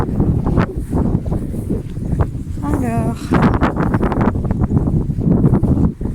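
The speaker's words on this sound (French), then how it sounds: "il y a beaucoup de vent" Strong outdoor wind buffets the microphone at the Chartreuse de Mélan, a loud, rumbling roar that runs under someone speaking French throughout.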